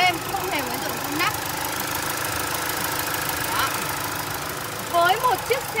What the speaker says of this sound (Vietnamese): Máy nổ vô cùng êm, không hề có hiện tượng rung lắc.